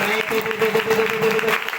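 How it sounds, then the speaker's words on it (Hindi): A congregation at a Sunday prayer meeting claps loudly in thanks, a close, full burst of applause blended with a sustained voice or tone running underneath throughout. "जोरदार ताली से प्रभु धन्यवाद करो"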